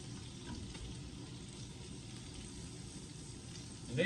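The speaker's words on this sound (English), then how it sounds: "after about 5 minutes of your steaks cooking, you go ahead and flip them." Vegan hamburger steaks fry over medium heat in a greasy pan, a steady close sizzle and crackle with a brief louder spatter at the end and no talking.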